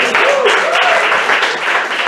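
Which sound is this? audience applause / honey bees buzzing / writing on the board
audience applause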